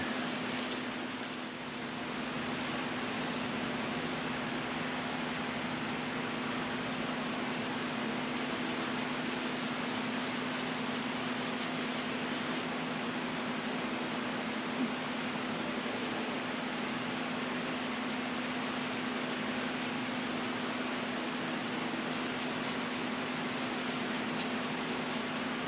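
Fine 1500 grit sandpaper rubbed steadily by hand, a soft continuous hiss of sanding strokes that stays faint and even throughout.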